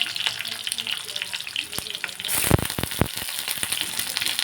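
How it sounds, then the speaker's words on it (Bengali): Pointed gourd (potol) frying in a pan for a mixed-vegetable dish, a steady close sizzle broken by sharp spatula clacks and scraping bursts near the middle. "পটল বেশি নাড়াচাড়া করলে হবে না, একটু ভেজে নেব।"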